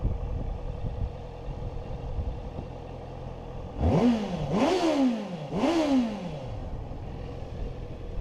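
A 2015 Honda CB650F four-cylinder motorcycle idling steadily, then three sharp revs in quick succession, each rising and falling, loud and close.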